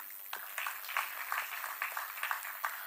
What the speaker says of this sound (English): Let's clap for all these people.